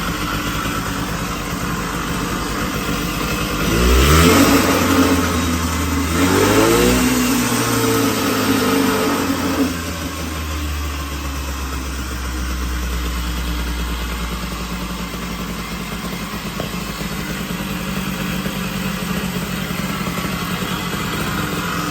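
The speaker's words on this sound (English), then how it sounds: "Still got to work on jetting and everything, but the bike is running." A 1980 Puch Murray moped engine, running cold on an unfinished jetting setup with a custom pipe, revs up in a few rising and falling bursts nearby, then settles into a steady buzzing idle.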